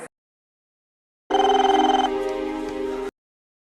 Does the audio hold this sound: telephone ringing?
yes